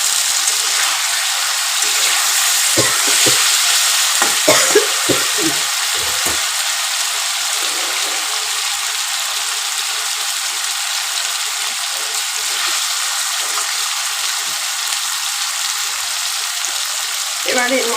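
Marinated chicken with ground onion stir-fries in a pan, a loud continuous sizzle with occasional scraping and stirring clatters early on, steady and close throughout.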